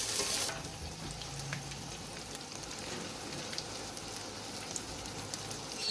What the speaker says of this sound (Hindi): और ये मैंने गोश्त फ्राई किया